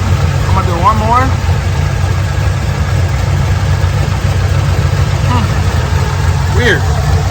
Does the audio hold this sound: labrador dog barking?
no